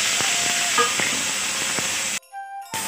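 Roughly cut chunks of tomato hit hot oil in a pan for paneer lababdar, giving a loud, steady hiss and sizzle with small crackles and clinks, then a brief quieter gap before the frying noise returns.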